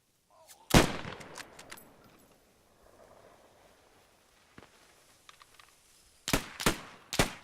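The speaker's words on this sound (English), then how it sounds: "they also had some sort of field gun or anti-tank gun firing up onto the bridge, as well as machine guns" Gunfire from a Post Scriptum battle, with field gun and machine gun shots: one loud report early, scattered fainter shots, then a quick cluster of sharp bangs near the end.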